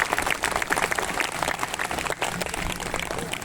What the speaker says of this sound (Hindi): जोरदार ताली बजाइए भाई, कुछ देर तक बजती रहनी चाहिए।